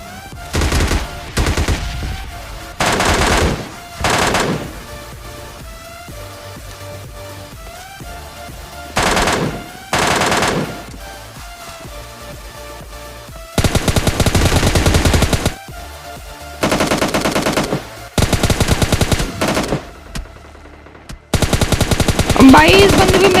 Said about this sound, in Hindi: फिर मैं सीधे निकालता हूँ MK और MK से उसको गोली मारता हूँ